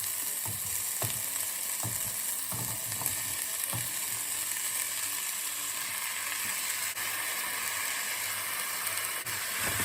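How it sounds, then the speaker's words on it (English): Saltfish sizzles in a pan with onions and garlic seasoned with salt and pepper, a constant dense frying hiss with a few light clicks of tossing early on, and no talking. "I'm going to just toss my saltfish about here into the onions and the garlic"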